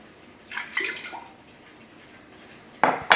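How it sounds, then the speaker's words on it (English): Water splashes and pours briefly into an Instant Pot insert, a short trickle early on followed by two louder splashy bursts near the end. "you're going to add 1 cup of water"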